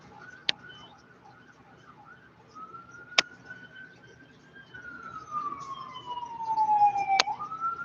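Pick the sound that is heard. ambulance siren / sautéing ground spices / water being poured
ambulance siren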